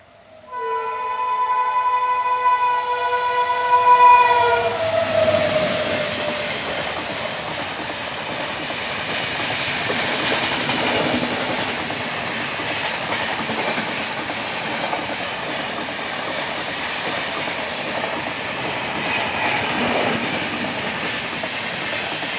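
The Garib Rath express from Secunderabad to Visakhapatnam sounds a loud horn, then thunders past close by with a continuous roar and rhythmic clatter of wagons on the rails at a level crossing.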